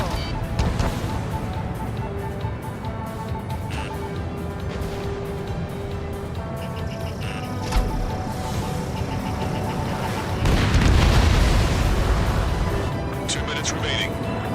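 Missile explosions in the Ace Combat 7 jet combat game, with dull blasts and rumbling impacts over steady engine roar and game music, a heavier burst near the end, and radio voices talking throughout.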